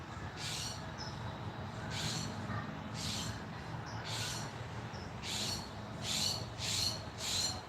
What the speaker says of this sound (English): Yeah, the hawk noise.